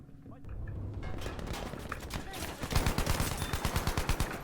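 Gunfire in the multiplayer shooter Battlefield 5, dense shots building into a rapid automatic burst in the second half, loud and close, mixed with game noise.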